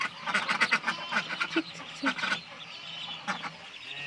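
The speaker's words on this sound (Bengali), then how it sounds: "এখানে আমাদের হাঁস আছে" Several ducks quack in quick, overlapping bursts, close by, with a few pauses between calls.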